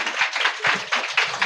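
An audience claps at a church sermon, with dense, crackling bursts of applause that swell and ease in several waves over a short stretch.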